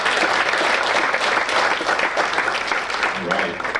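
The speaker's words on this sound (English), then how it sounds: "Give it a round of applause for that." A crowd at a corporate fireside chat event bursts into loud, sustained applause, dense clapping filling the room throughout.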